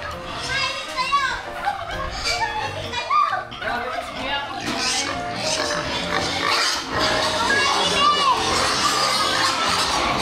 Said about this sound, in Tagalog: Ay, ingay ng mga baboy eh.